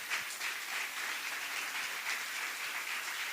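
A church congregation applauds together for the Lord during an evangelist's sermon, a dense, steady wash of many hands clapping at once, heard at a moderate distance with no voices over it.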